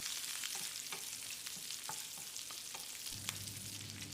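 Oil crackles and sizzles steadily as curry leaves fry, with scattered pops and scraping stirs, then a low rumble joins near the end; no one speaks.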